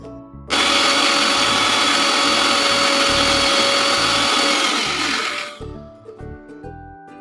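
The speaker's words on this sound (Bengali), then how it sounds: "এদিকে পালনগুলো একটু ভেপে নেওয়া হয়ে গেছে, এখন তুলে ব্লেন্ডার করে নেব।" A blender purees steamed spinach in a kitchen, a loud steady motor whine starting abruptly and running about five seconds before spinning down, followed by faint clatter.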